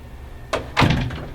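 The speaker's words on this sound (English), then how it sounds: "I'll close the door here." An indoor door in a small home studio swings shut with a muffled thunk, then a soft settling rumble, against quiet room hiss with no talking.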